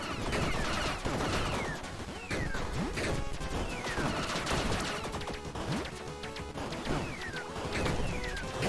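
An enemy shooting randomly in the video game Tiny Rogues, irregular bursts of shots and crashing hits layered with game music and sweeping effects, dense and steady throughout.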